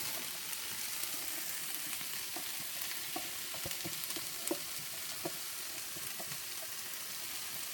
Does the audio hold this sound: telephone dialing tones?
no